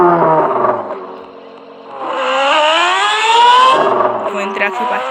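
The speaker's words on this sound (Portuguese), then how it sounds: "O motorzinho tá bom demais, motorzinho 600 cilindrada, 4 cilindros" A fairly new 600cc four-cylinder motorcycle engine idles, then revs up in a rising, whining climb before settling back, loud and close.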